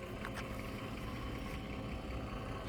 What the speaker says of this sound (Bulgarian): Това е мотора.